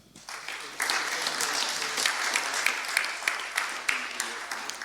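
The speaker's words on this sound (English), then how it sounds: "Please give a round of applause to Akshat." An audience applauds a speaker introduced at a Debian technical talk on Podman, the clapping starting faintly, then swelling into a steady, moderately distant patter of many hands lasting several seconds with no talk over it.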